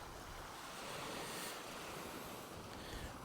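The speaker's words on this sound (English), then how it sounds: "Wind has picked up disgustingly." Strong wind blows across a North Wales seashore at high water, a dense steady roar mixed with surf and buffeting on the microphone, constant and fairly loud with no speech.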